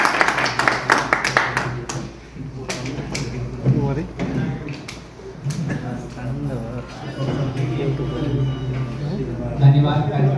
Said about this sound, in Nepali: जोरदार तालीले स्वागत गराउनुहोस्।